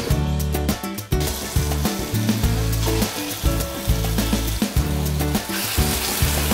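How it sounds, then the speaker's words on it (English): Steady crackling sizzle of moong dal fritters frying in hot oil, continuous and close, with occasional clinks and low rumbling underneath. "our oil is now hot for frying the kachoris"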